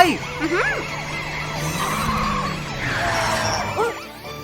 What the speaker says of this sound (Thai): แคลรี่วิ่งตามเสียงไซเรนไป